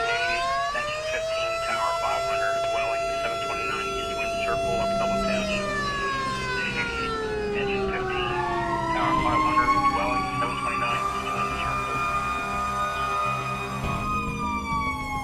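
A fire engine siren sounds at a fire station during an alarm call, its wailing tones sweeping up and down over roughly fifteen seconds, loud and sustained, with a second siren layer overlapping toward the end.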